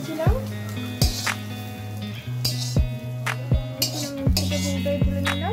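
Fried bitter gourd, cooked with a little turmeric, is lifted out of a pan with a metal utensil, giving a few sharp clinks and scrapes against the pan, with a voice sounding faintly in the background.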